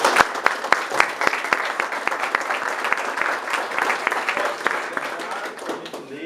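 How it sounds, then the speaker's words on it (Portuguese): Church congregation applauding after a Bible reading, a lively round of clapping with distinct individual hand claps punctuating the dense applause, steady throughout and fading slightly at the end, with some voices mixed in. "Vamos aplaudir a palavra de Deus."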